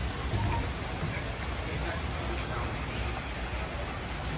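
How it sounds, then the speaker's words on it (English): Steady rain falls throughout, a continuous broadband hiss of drops on a surface with no clear breaks, fairly loud and even from start to finish. "It's raining."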